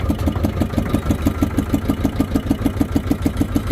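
A fishing boat's engine chugs at idle in neutral with a fast, even, pulsing rhythm, steady and close, with no voices.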